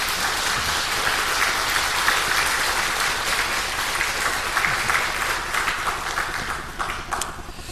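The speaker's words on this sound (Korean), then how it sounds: "자, 힘내시라고 우리 한 번 더 사랑의 박수 한번 해드릴까요?" A church congregation claps together during a Sunday morning service, a dense, steady wash of many hands applauding throughout without pause.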